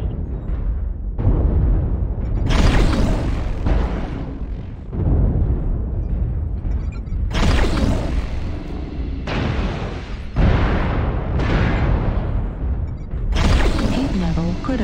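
An artillery strike in a mech combat video game, HBK-4P Hunchback, lands as a series of heavy, rumbling booming explosions in close succession, each blast rolling out before the next hits.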